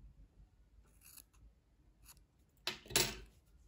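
Scissors snip through yarn wrapped around fingers for crochet tassels, a few light quiet cuts followed by a sharper, louder close snip near the end.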